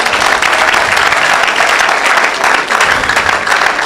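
Church congregation applauding loudly for Jesus, dense continuous clapping from a large crowd close by, steady and unbroken throughout.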